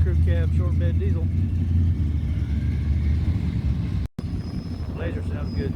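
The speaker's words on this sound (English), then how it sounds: "Big crew cab, short bed diesel." Crew cab short bed diesel truck at a truck show, a steady low engine rumble close by that briefly cuts out near the end, with voices talking over it.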